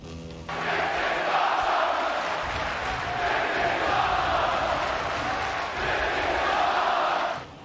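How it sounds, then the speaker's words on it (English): A large crowd roars and cheers continuously at a distance, a broad sustained wash of voices that swells and dips slightly before cutting off. "You hear the crowd."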